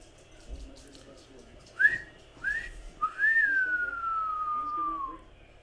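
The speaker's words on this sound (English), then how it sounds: "Blow that whistle, ref." Referee's whistle blown at the end of a Euro 2020 England vs Germany football match, heard as two short chirps followed by a long falling blast, fairly close over low crowd and room noise.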